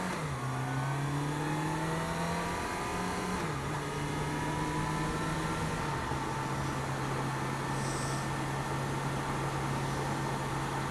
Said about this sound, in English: Get that big ass 4x4 V8 going.